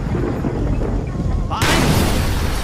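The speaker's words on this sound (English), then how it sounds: "Mason, let's see what this Semtex can do" A Semtex charge in Call of Duty Black Ops detonates in a fuel reserve in a Vietnam jungle, a sudden loud, close blast that cuts through a rumbling, noisy battle background with voices.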